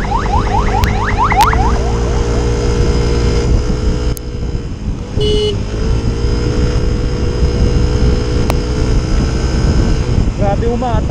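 Yamaha Mio i 125s scooter fitted with 10 g flyballs and a 1500 center spring, carrying a 78 kg rider on a road test, its engine droning and rising steadily under wind noise, with a brief rev swell near the start.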